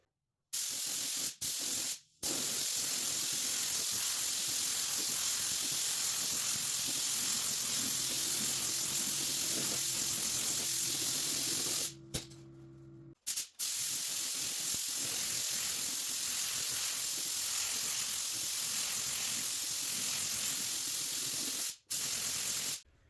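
Spray gun laying clear coat over blue-to-purple colorshift pigment paint, a steady loud hiss running nearly continuously for most of the stretch, broken by a few brief pauses between passes.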